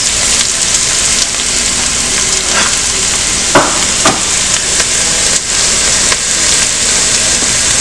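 Garlic hitting a hot pan of onions, cumin seeds, cracked pepper and salt, a loud steady sizzle with a few brief stirring scrapes and pops, close up and without talk.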